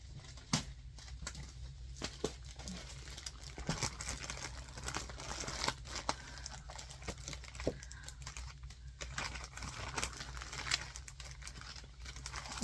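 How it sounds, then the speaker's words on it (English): A big plastic pack of scrapbook embellishments and paper being opened, with irregular crinkling, rustling and tearing plus small clicks and taps throughout, close up with no talking. "And then we got this big pack of embellishments and paper. So I'm going to open that up."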